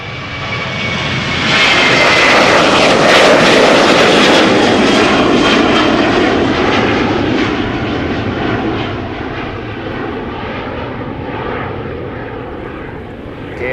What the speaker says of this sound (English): KLM 737 to Copenhagen.